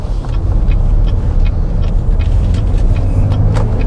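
A 2021 Cadillac XT5's engine rumbles loudly and steadily from inside the vehicle as it drives through a turn, with road noise throughout.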